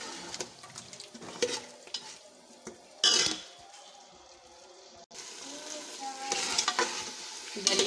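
Mutton and soaked dalia fry together in a pan, giving a quiet, steady sizzle broken by scraping stirs and occasional louder clatters of the spoon against the metal.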